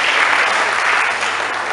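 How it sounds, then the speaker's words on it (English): An audience at a freedom of information training session claps steadily for about two seconds, a dense, continuous round of applause heard alone without talk. "Please, can we clap for them and clap for yourself?"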